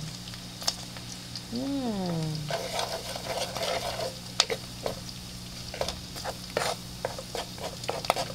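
Cooking oil crackles and sizzles in a pan for Bicol express, with steady spattering and sharp pops up close, and a brief voice rising over it early on.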